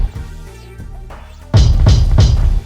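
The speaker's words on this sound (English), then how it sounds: "So the kick sounds like this." A thick, heavy kick drum sample in an experimental trap-style beat hits three times in a steady pulse, loud and booming, after a quieter stretch of low synth tones.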